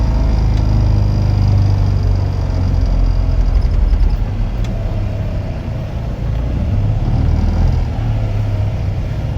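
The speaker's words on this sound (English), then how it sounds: "So to put it in reverse, we're going to push down the gear stick, push it to the right and pull back, and then just let the clutch up" Classic Fiat car engine idling and pulling away in reverse during a test drive, a steady close low rumble that holds level throughout with no voices.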